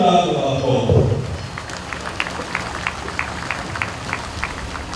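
A crowd at a formal naval dockyard ceremony gives a round of applause, starting as a brief burst of clapping, then thinning to scattered, rhythmic claps that carry on under the ambience.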